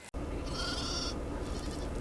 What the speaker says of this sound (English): Listen to the little sheep and the Angora goats.